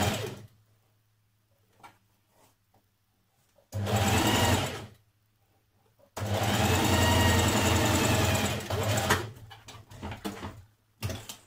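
Two close, loud runs of a sewing machine stitching a small seam on a ladies' shirt, a short burst then a longer steady run, separated by quiet handling noises.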